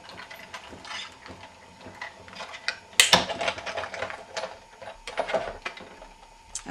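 A manual die-cutting machine is cranked to roll Framelits dies and cardstock between cutting pads, making a close, ratcheting mechanical grind with uneven clicks and a sharp clunk partway through; no one speaks.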